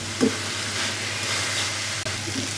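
Vegetables with salt and turmeric frying in a pan for a fish-bone chorchori, a loud constant sizzle with a soft stirring scrape near the start and a brief dip near the end.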